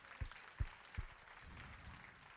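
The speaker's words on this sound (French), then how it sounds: "Applaudissez Jésus" A church congregation applauds in faint, scattered clapping, with a few low thumps early on that give way to a soft, continuous patter heard from a distance.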